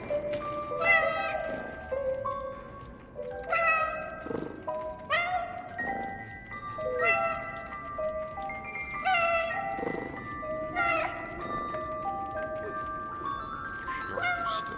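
A cat in the game 11-11 Memories Retold meows repeatedly, about six drawn-out, plaintive calls spaced a couple of seconds apart, fairly close and clear above a quiet background.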